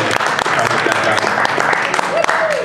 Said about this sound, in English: So, you know, big round of applause for that.